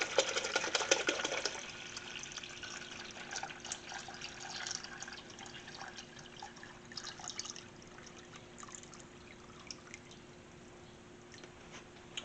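Water is poured into a bucket while flushing the coolant on a 2016 Scion iA: a splashing, trickling stream that is strongest at first, then thins to lighter dribbling and drips, close and moderately quiet.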